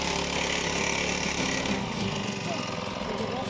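An engine-powered post-hole digger boring a fence post hole in a backyard, its small motor droning loud and close with a steady buzzing roar that shifts slightly under load, while a voice talks over it.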